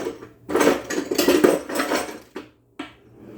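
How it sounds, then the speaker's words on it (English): Rapid clattering of a whisk against a bowl beats pancake batter in quick, uneven bursts, close and fairly loud, with a short pause before a final few strokes. "Just going to whisk that together a little."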